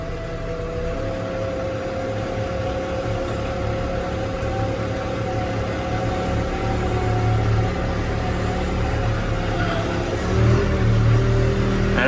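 A backhoe's engine drones steadily and close while the machine reverses, its low rumble holding even before rising louder near the end, with no voices over it.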